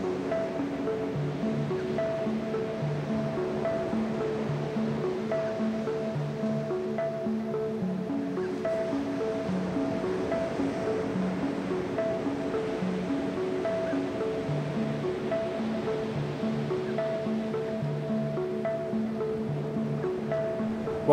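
Ocean waves break on a beach at North Stradbroke Island, a steady, even wash of surf rolling on for about twenty seconds beneath a soft, sustained musical drone.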